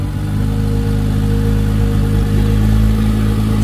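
A DeLorean engine, restored and emissions-legal, runs steadily with a loud, deep rumble and strong low harmonics that swell slightly toward the end, with no talking.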